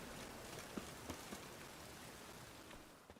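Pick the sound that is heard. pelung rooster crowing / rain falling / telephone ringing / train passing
rain falling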